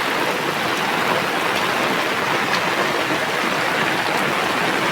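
Heavy rain pours steadily in Tanahun, Nepal, a dense, even hiss of falling water with no breaks and no voices.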